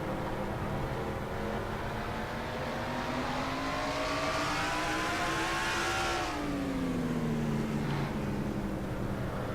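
Race car engine onboard a Dodge in a sim racing stock car video game, a loud continuous roar whose pitch climbs, drops sharply around a gear change, then rises again as the car powers through a turn.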